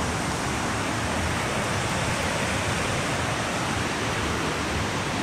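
A mountain valley stream at Sibiseonnyeotang in Seoraksan, Inje, flows with a dense, steady rushing wash that holds an even level throughout and has no voices.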